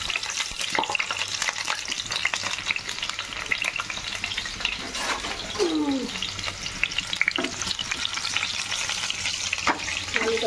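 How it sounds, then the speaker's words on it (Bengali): Potatoes fry in hot oil in a karai (wok): a dense, continuous crackling sizzle runs throughout, with occasional scraping knocks of stirring. No voices. "কড়াইতে তেলটা হয়ে গেছে, এবার আলুটা ছেড়ে দিচ্ছি।"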